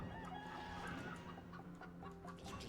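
Chickens in the video game Dead Cells cluck in quick, repeated bursts over a layered game soundtrack, the clucks close and fairly loud, with no talk.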